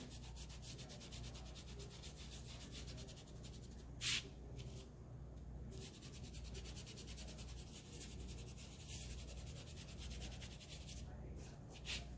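A finger rubbing oil pastel into paper while drawing a fish: faint, steady soft friction over a low background hum, with a couple of brief brighter scrapes.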